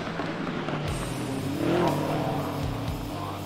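Race cars, including a McLaren, compete in a GT Series race at Virginia International Raceway in a racing video game. Engines drone and rev together, one sweeping up in pitch as it passes, with hints of tire noise.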